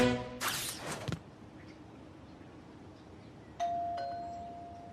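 A doorbell rings at a house door in a cartoon: a bright chime burst near the start, then quiet before a single sustained electronic tone sounds near the end.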